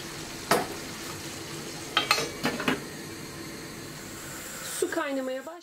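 A spoon stirring food in a pot over a steady sizzle, giving a few sharp scrapes and knocks, with a voice speaking briefly at the end.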